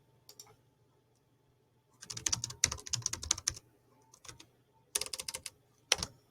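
Fingers typing on a membrane computer keyboard in quick soft bursts of key presses separated by pauses, close and fairly quiet, with no voices.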